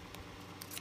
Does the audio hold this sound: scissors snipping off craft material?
yes